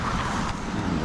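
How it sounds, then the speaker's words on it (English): Roadside traffic passing: a steady broadband roar of vehicles going by close to the roadside, with no speech. "Stop here and wait for traffic to go past."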